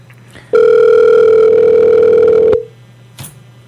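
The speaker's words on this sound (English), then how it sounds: "Waiting for the phone to ring." A telephone ringback tone sounds during an outgoing call on a radio show: one steady, loud electronic tone lasting about two seconds, starting abruptly and cutting off, with a brief click afterward.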